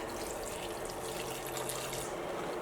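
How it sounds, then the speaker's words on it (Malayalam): Water pours steadily into a pot of raw green papaya pieces for a curry, a continuous close splashing flow with no speech. "ഈ കഷ്ണങ്ങൾ വേവാൻ ആവശ്യത്തിന് വെള്ളം ഒഴിക്കുക"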